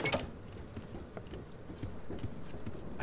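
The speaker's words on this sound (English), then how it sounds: "I hear footsteps." Footsteps in a horror video game, a steady patter of soft thudding steps running throughout at moderate loudness, with no one speaking.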